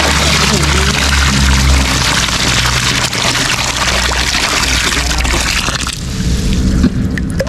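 Water poured out in a steady, close stream with sloshing and trickling, mixed with a loud low rumble, while people talk over it.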